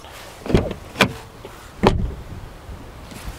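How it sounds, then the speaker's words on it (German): Doors of a VW Tiguan Life 1.5 eTSI shut one after another, three solid thuds close by, spaced unevenly with short pauses between, heard alone without speech. "Wir hören einfach mal rein, wie sich die Türen anhören."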